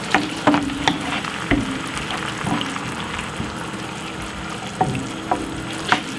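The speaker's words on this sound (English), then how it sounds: "give it a good stir" Food being stirred in a pan while shakshuka cooks, a tomato sauce with eggs, with scraping spoon strokes at an irregular rhythm over a steady background sizzle.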